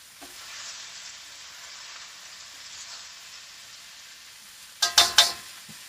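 Food with mushrooms fries in a pan over lowered heat, a faint steady sizzle followed by a short burst of louder stirring and scraping near the end.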